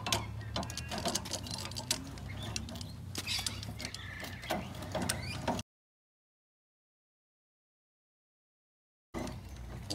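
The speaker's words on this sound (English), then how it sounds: "You lock it in at the bottom and use this bar to wind it down." A bar winds down a corner stabiliser leg on a 2020 Jayco Expanda caravan parked on grass, making rapid ratcheting ticks and clicks up close, then a gap of silence before the clicking resumes.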